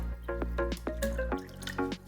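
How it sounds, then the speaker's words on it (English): Clorox bleach poured into a bowl of water gives a short burst of close, bubbly plops and trickling splashes, several quick liquid blips in a row, with no voices. "Now I'm gonna add some Clorox bleach into my water."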